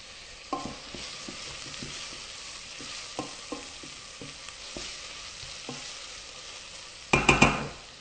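Crème fraîche is stirred into a pot of chunky fish soup, a soft bubbling simmer punctuated by light, irregular clicks of a spoon against the pot, with a louder clatter near the end.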